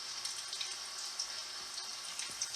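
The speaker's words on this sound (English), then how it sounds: "Why is the bubbles coming out of oil?" Hot oil sizzles faintly while paneer, chicken or bread pakora deep-fry, a steady hissing bubble with no talking.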